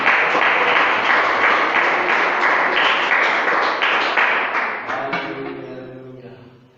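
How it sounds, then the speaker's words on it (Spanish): Applause from a church congregation fills the sanctuary with dense, steady clapping that runs several seconds at full strength, then thins and fades toward the end as a low voice or music tone emerges. "Regala un aplauso al nombre de Jesús."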